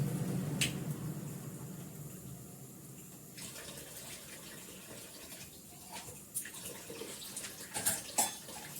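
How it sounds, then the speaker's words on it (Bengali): Water poured from a vessel into rice cooking in a pot, with a faint trickling splash and soft wet squishes, close but quiet, and a few small clicks near the end. "ভাতটা টেনে গেছে, ভাতে একটু জল দিয়ে দিই"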